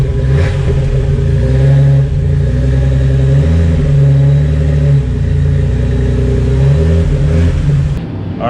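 A loud, deep-throated Jeep TJ engine revs repeatedly with a rumbling Flowmaster exhaust burble, rising and falling in pitch, close by and alone.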